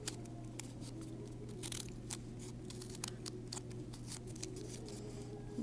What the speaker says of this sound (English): Now I can cut across the top here as well.